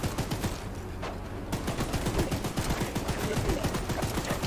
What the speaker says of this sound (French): pour le plaisir, on va prendre la mitrailleuse